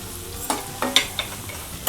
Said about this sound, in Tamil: இந்த தக்காளியும் சேர்ந்து ஒரு 2 நிமிஷம் வதங்கட்டும்.